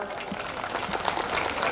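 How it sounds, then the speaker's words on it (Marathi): Seated elderly audience members applaud at a memorial commemoration speech gathering, a dense, steady wash of clapping filling the whole moment, with voices mixed in. "एकदा सगळे जेवढे ज्येष्ठ लोक बसलेले एकदा टाळ्या वाजवा बरं कार्यक्रमात"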